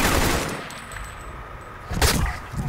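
Gunfire from a sniper rifle in a video game: a dense burst of shots at the start, quieter stretches, then another sharp loud report near the end.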